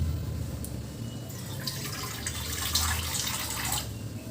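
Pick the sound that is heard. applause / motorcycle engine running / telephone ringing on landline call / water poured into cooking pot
water poured into cooking pot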